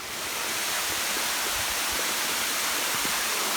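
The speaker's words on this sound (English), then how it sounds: "and a waterfall, and when we go out hiking we like to chase waterfalls" Waterfall on the Karangahake Gorge walkway near Paeroa, a steady broadband rush of falling water that stays loud and even from start to finish, with no voices over it.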